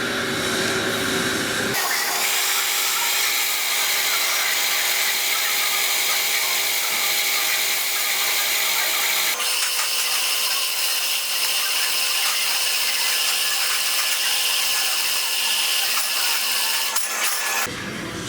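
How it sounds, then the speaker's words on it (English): Drill boring a hole in a steam engine piston for an M4 thread, a loud continuous high whine with a few sharp shifts in pitch and tone as the bit works through the metal. "So this piston, guys, I'm drilling a hole there to put this thread in there, the M4 thread"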